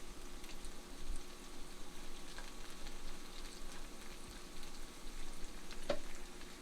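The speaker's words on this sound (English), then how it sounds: "then you flatten it and then you just let it fry." An egg and flour battered patty fries in a pan, giving a steady, soft sizzle and crackle throughout with no talking.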